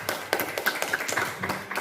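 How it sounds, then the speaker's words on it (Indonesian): Scattered clapping from an audience of teachers for a colleague, a short burst of distinct individual claps at an uneven rhythm, close and moderately loud. "Tepuk tangannya buat Bu Lilis."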